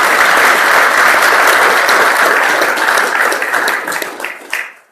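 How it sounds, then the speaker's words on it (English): Audience at a Livingston County brewing awards presentation gives a full round of applause, loud and dense from the start, then thinning and fading out over the final second. "can have a round of applause"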